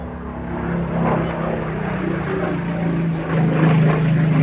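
A two-seat Spitfire flies at the Midlands Air Festival air display, its engine a steady droning rumble that grows slightly louder toward the end, with someone talking over it throughout.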